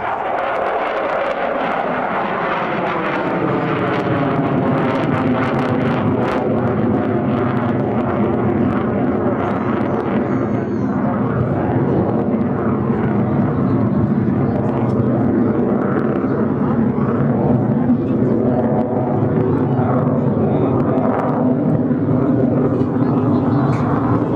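A NASA ER-2 high-altitude jet at an LA County airshow roars at full power, its loud broadband engine rumble with shifting whine as it pitches up steeply and climbs, a continuous powerful blast throughout.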